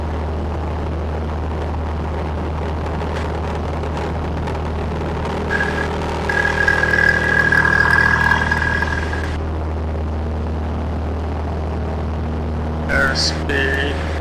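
A light aircraft's piston engine holds a steady low drone throughout, swelling louder near the middle as it runs up to 2300 RPM during pattern work at Tipton airfield, with a brief extra burst near the end.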